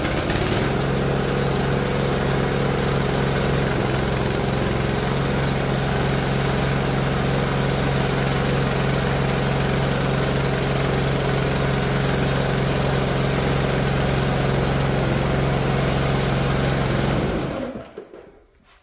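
A Predator 212cc small gas engine, after earlier trouble starting, runs at a steady fast idle with a buzzing, rattling drone, loud and close for about seventeen seconds before being shut off and quickly winding down to silence.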